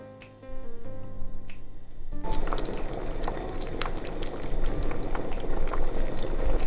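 Mushroom and pork porridge boils in a covered pot, a steady close bubbling and soft popping that swells slightly over several seconds, no talk.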